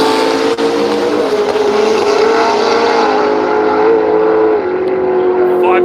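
A naturally aspirated Ford XB-era Falcon drag car at the Willowbank radial drags in Australia, a loud sustained engine roar with a steady drone that slowly fades as it pulls away, heard close and dominant.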